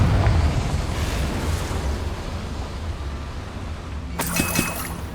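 A Confringo spell explosion in the Hogwarts Legacy video game: a loud crackling burst fading into a steady rumbling wash, followed near the end by a sharp breaking, shattering crash.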